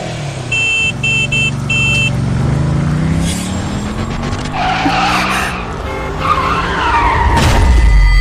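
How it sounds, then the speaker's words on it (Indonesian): A car skids with loud screeching tires and then crashes into another car, a sustained squeal followed by bursts of crunching impact noise, close and loud throughout. "Maaf Nona, mobil kami yang menabrak mobil Anda."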